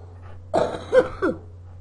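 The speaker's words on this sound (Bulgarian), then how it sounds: "Извинете, малко кашлям." Three short, throaty coughs in quick succession from one person, close and fairly loud, in a quiet room.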